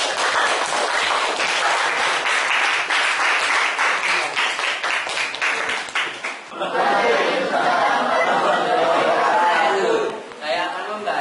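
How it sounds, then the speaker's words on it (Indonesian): A school classroom in Indonesia breaks into brisk applause from students, rhythmic clapping that then gives way to a burst of chatter, cheering and laughter from the group. "Beri tepuk tangan."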